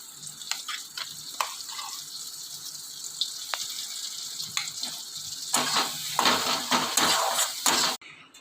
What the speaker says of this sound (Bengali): এই যে তেলে দিয়ে দিলাম তিলটা পুরো, দিয়ে নাড়াচাড়া করে নামিয়ে নেব।